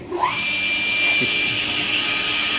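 Circular saw whining steadily at speed as plywood is fed into the blade, a loud sustained high-pitched tone after a brief rising spin-up, with no talking.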